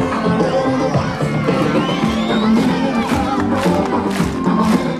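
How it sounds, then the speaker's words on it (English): Crowd cheering and shouting at a radio roadshow quiz after the winner is announced, a loud continuous roar of voices with whoops, steady throughout. "Give a nice round of applause."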